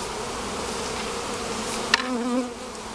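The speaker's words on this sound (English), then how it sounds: "we got some pissed off bees right now" Dense, steady buzzing of many agitated honey bees close by around a hive during package installation, with a brief sharp click partway through and a louder bee droning past.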